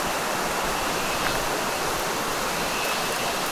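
Rushing water of Hebbe waterfall in a forest, a steady dense broadband roar that fills the whole moment with no break, close and fairly loud, with no voices over it.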